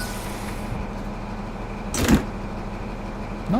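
A quiet mechanical hum, then a sharp thud of a train coach door shutting around the middle, followed by another brief clunk near the end, in the game Train Sim World 3 on the Midland Main Line.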